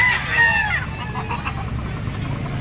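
A white hatch gamefowl bull stag crows loudly and close at the start, then breaks into low clucking over steady background noise.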